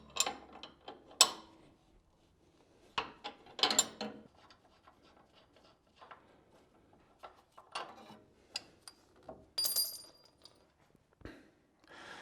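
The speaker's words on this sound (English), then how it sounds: "let's pull these nuts off" A ratchet works nuts off a truck's front suspension during an ICON lift kit install: bursts of close metallic clicking and clattering, separated by quiet pauses, with occasional sharp clanks of tools and parts.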